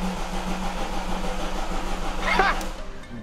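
A Peugeot 2.0 HDi diesel engine cranks steadily for about three seconds without catching, a continuous churning drone close to the microphone, with a brief faint voice near the end.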